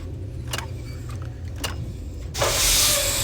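Machinery of a tram car in the Riven game, a low mechanical hum broken by a few clunks and clicks, then a loud rushing whir surging in near the end and holding steady.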